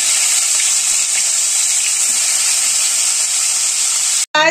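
Fish pieces frying in hot oil, a loud, constant close-up sizzle and hiss that runs steadily, broken by a brief cut near the end, with no one talking.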